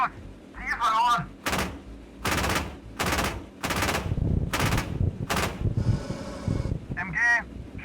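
Bursts of machine gun fire from a Marder A1 infantry fighting vehicle in a video game ring out in a quick series of loud, evenly spaced volleys, with German crew voices calling out between them.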